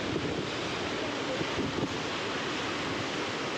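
Floodwater from the Cheyyeru river at Nandaluru surging over a mill, a loud, steady roar of rushing water mixed with wind buffeting the microphone, no talk.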